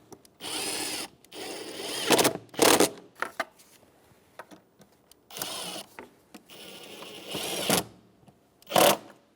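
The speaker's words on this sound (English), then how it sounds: "with a flathead screwdriver or a 8mm socket, I'm going to tighten up the clamps for the" A flathead screwdriver or 8mm socket tightens the air box hose clamps on a 1999-2004 Jeep Grand Cherokee, heard as several short bursts of ratcheting, whirring turns separated by quiet pauses.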